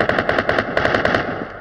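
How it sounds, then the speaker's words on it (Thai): ICR-1 rifle gunfire in Call of Duty Mobile: a rapid automatic burst of about a dozen sharp, evenly spaced shots with a brief gap partway through, loud and alone with no talk. "โอเคเปิดมาก็ต้องมาเปิดยิงกันเลยนะฮะ"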